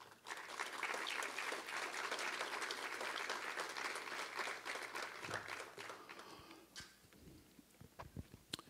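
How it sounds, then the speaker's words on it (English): Audience at an evening lecture bursts into dense, loud applause welcoming the lecturer, sustained for about six seconds before thinning into a few scattered late claps. "Please join me in a round of applause."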